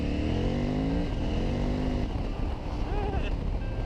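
A 950 motorcycle engine roars loudly and steadily up close, its pitch climbing as it revs to about 4,000 rpm on a dirt road, with buffeting wind noise throughout.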